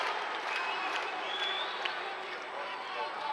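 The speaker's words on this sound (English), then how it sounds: "Crowd getting into it now. Some of them up on their feet, cheering and chanting." A judo match crowd in a European Senior Championships arena cheers and chants steadily, a dense, continuous roar at even loudness throughout.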